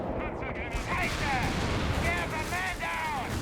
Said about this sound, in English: Here comes the carpet bombing.